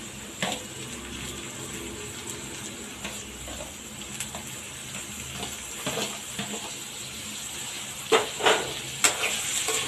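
Green chilies and tomatoes sautéing in a pan for home-style chicken curry: a steady soft sizzle throughout, broken by occasional clinks and scraping stirs, with a few sharper taps near the end.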